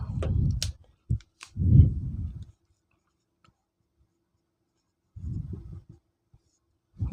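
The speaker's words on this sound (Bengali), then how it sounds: "আমি তাহলে এখন সংজ্ঞা লিখব লেটারের" A definition being written out by hand during a grammar lesson, heard as close, scratchy bursts of strokes separated by quiet pauses.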